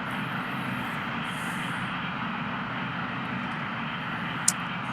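An aircraft takes off in the Air Traffic Controller 4 video game, a steady broad engine roar of even loudness that holds throughout, with one short sharp click near the end.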